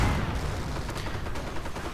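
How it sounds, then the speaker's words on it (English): A WWII strategy game battle with a .50 caliber machine gun among rolling bursts of gunfire, a dense, steady crackle of shots filling the short stretch without speech. "50 caliber machine gun also joining into this chorus of gunfire"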